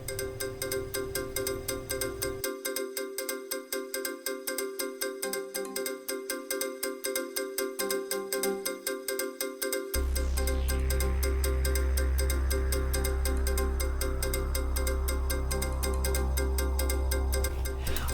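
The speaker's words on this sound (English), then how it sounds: "my phone is going off" A phone ringtone plays loudly and continuously, a repeating electronic melody that grows fuller and louder partway through, with no talking over it.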